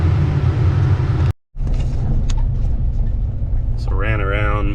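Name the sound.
bulldozer and excavator working in dirt pit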